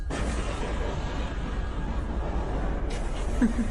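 A distant bomb blast during a football match on a field, heard as a dull rumbling boom with a sustained noisy roar, and a second burst near the end.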